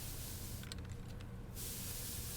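Hair dye spray in the video game Death Stranding 2: a steady close hiss that runs through the clip, briefly interrupted by a few light clicks before resuming.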